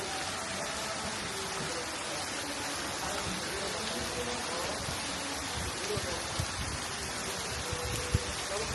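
Steady rain pouring at Ba Na Hills near the Golden Hands Bridge in Da Nang, Vietnam, a dense even hiss with occasional close drops tapping nearby surfaces.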